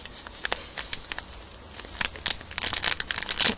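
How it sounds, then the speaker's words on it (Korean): A plastic packet of powdered apple jelly mix crinkles and rustles as it is cut open and handled, close and sharp, with a sparse start that grows busier and louder toward the end, and no talking. "비닐 소리는 양해 부탁드리도록 할게요."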